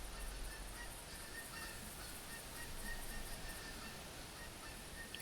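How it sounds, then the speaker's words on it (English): Flock of geese honking in theHunter: Classic hunting game, a continuous faint chorus of calls over steady wind-like ambient noise, no talk. "Got a lot of geese honking."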